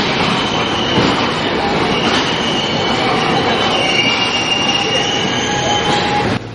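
A train pulls into Fort Railway Station during a rail strike, a loud, steady rumble of wheels on track with metallic squeals and rattling carriages throughout, close by.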